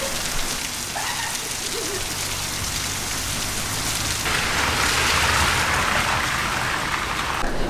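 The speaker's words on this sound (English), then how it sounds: "it's hailing. Literally hailing." Heavy hail pelting surfaces on a road in a Mexican town in a dense, continuous roar that grows louder midway.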